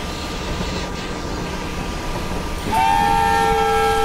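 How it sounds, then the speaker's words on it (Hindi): A locomotive horn sounds in the Open Rails/MSTS train simulator, a loud sustained two-tone blast starting partway through over steady rumbling train running noise, with no talking. "ये स्टेशन पर मैंने हॉर्न मारा है"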